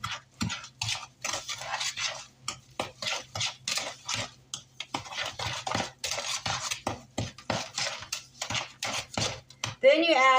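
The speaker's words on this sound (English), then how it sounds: "beat that in there real good because there's an egg there and you got to beat it" A spoon beats an egg into cookie dough in a bowl by hand, with rapid, repeated scraping and clinking strokes in a steady rhythm, close and fairly loud.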